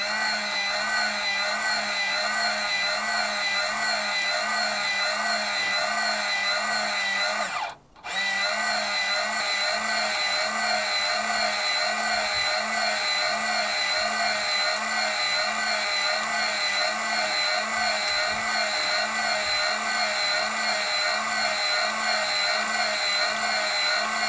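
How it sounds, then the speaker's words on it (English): A small 12 volt auger motor, powered by a LiPo battery, turns steadily to feed pH powder in an automated aquaponics setup, giving a continuous whirring drone that runs alone for the whole stretch apart from one very brief cutout. "So when I power it up, the auger should turn and deliver this powder into the."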